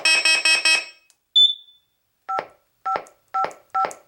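A 2GIG Go Control alarm panel beeps while pairing a carbon monoxide detector: a quick run of four loud tones, a short rising chirp, then four evenly spaced single beeps, clear and close with no talking.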